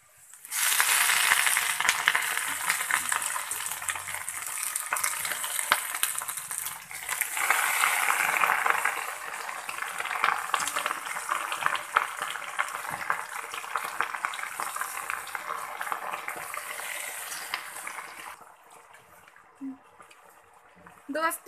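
Leafy saag greens go into a hot, golden-brown tempering in a village-style kitchen and fry with a steady, loud sizzle that fades near the end.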